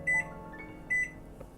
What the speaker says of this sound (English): So I'm just gonna set my timer here.